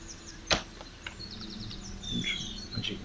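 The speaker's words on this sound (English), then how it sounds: "I should hear the bird outside, a real bird outside." A real bird outdoors sings loudly, with bright chirps and short rapid trills repeating over a light background hum, plus a sharp tap near the start.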